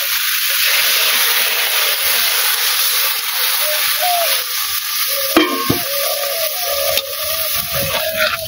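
Spice paste for a village-style fish curry is stir-fried in a pan, a constant loud sizzle with scraping spatula strokes and a few sharper clatters against the pan.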